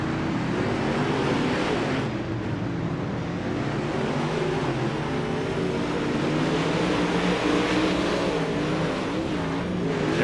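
Touring modified race cars pulling away at the start of a heat race at Fairbury, engines roaring together in a steady, loud, broadband rumble that holds throughout with little change.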